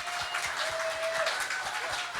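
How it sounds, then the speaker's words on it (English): Audience applause fills a small venue for a musician, dense and steady throughout these couple of seconds without a voice. "I think we should just give her another round of applause."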